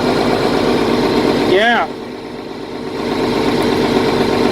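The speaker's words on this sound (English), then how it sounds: "These are a dream tractor right here." A 1086 tractor engine idles loud and steady close by, with a brief spoken word over it and a slight drop then rise in the engine's level.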